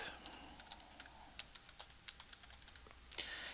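A report name typed on a computer keyboard in a quiet office setting, a run of quick, light, close key clicks in an uneven rhythm, with no voices.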